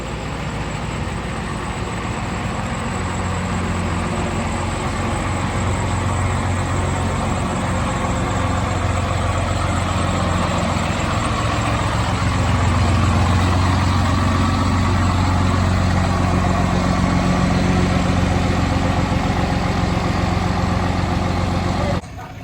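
A 12-valve Cummins diesel engine idles steadily for a long stretch, a low, even rumble close by with a faint rise in loudness partway through and no talk.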